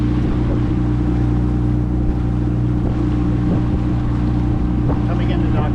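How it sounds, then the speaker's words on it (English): Steady drone of a small outboard motor skiff running on the St. Johns River, with wind noise buffeting throughout. "Blue skiff heading south on the St. Johns River"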